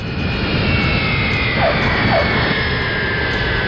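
A US-Bangla Airlines Flight 211 airliner landing on a tabletop runway at a Nepal airport, with a loud, steady engine roar that stays constant throughout and no talking.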